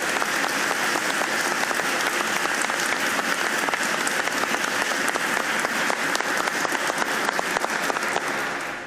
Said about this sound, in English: I want all of you to applaud the upbeat musical group we enjoyed before the ceremony